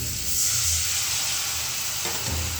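Water poured into turmeric, coriander, green chili and dried chili powder frying in a pan for a fish curry, giving a loud close sizzle and hiss that swells, eases, then flares again near the end.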